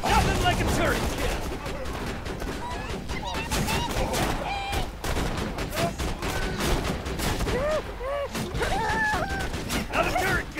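Turret gunfire in the video game Borderlands 2, dense and continuous shooting with bursts of fire under excited voices and game noise throughout.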